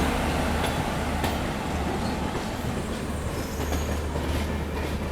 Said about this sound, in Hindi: देखो बगल से कोई इंटरसिटी ट्रेन निकली है